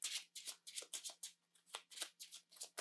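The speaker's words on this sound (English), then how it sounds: "I'm gonna shuffle" Cards from a Star Wars deckbuilding game (Clone Wars edition) being shuffled by hand, a rapid series of about nine crisp riffling bursts in quick rhythm, close and clear with no talk.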